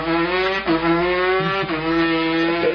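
A human voice imitates a two-stroke dirt bike moped engine, giving a close, buzzy, harmonic-rich drone with two brief dips like gear shifts over nearly three seconds.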